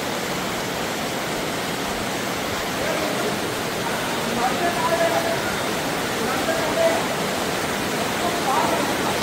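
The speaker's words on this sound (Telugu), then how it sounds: "చాలా అద్భుతమైనటువంటి ఈ రెండు కొండల మధ్య జలపాతం చూడండి." Tumburu Teertham waterfall pouring between two hills near Tirumala makes a steady, broadband rushing roar, continuous and fairly close, with faint voices now and then under the water.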